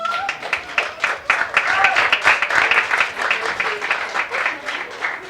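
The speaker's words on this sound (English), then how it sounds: "So I think we need to applaud for her" Audience applause for a fashion show host during a Paris Fashion Week rodeo-themed presentation, a dense wash of clapping lasting several seconds with a brief voice early on.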